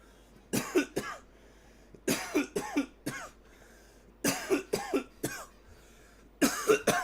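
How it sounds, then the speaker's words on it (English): Four bouts of harsh coughing, each a quick cluster of two or three hacks, separated by short quiet pauses. "that is tasty coughs"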